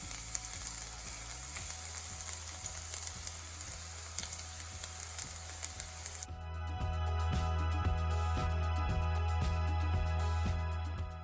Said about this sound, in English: because the oil is already hot, I have 45 cloves of garlic, finely chopped. I'm just gonna add them in.